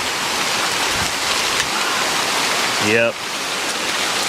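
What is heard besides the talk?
pouring rain in Pawhuska, Oklahoma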